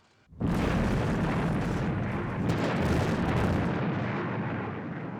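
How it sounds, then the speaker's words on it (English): Explosive charges detonate in a sudden, loud blast that swells into a sustained, rumbling roar lasting several seconds and fading slightly at the end, with no voices. "Detonating charges now."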